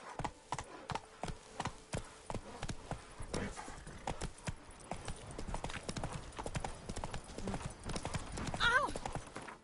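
Horse hooves clip-clop steadily on the move in The Witcher 3: Blood and Wine, a near, continuous rhythmic patter with a brief whinny near the end and some voice mixed in.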